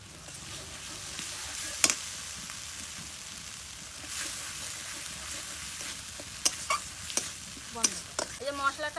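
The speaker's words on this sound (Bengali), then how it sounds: "এবার মশলাটা ভালো করে কষিয়ে নেব" Spice masala fries in oil in a pan while a spoon stirs it during the cooking of a fig curry. A soft, steady sizzle runs throughout, broken by sharp scraping and clinking strokes that grow more frequent toward the end.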